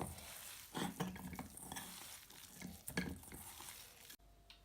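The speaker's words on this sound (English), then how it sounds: "Now mix that all up so it's nice." Meatball mixture with bicarbonate soda mixed by hand in a bowl, a series of soft wet squelching and patting strokes, quiet and close, ending abruptly; no talking.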